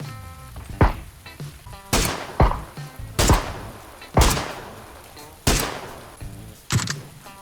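PUBG gunfire, a series of sharp, loud single shots spaced roughly a second apart, each with a decaying tail, heard clearly over faint game ambience and occasional voices.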